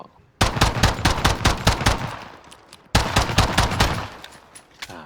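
Rapid pistol gunfire in a video game, loud sharp shots in two quick bursts with a short pause between them and no talking.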